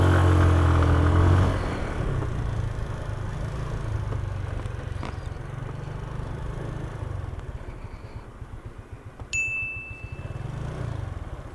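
Big bikes, including a Benelli TRK502X, roll in and arrive with a low engine rumble that swells loud at the start and then settles into a steady idle and ticking, with a brief chime near the end.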